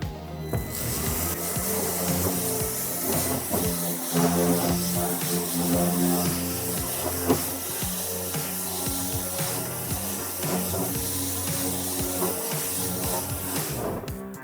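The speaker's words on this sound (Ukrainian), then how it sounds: "Давайте спробуємо прошліфувати трішечки наш дубовий брус." Procraft PX20 random orbital sander running on its lowest speed setting, sanding an oak beam with 80-grit paper, giving a steady, even hissing whir that holds at constant loudness from start to finish.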